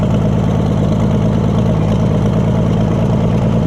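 A long-neglected scrapyard Oliver Super 77 tractor, still fitted with junk parts and a poor carburetor and manifold, idles close by with a loud, steady clattering engine rumble and no pauses.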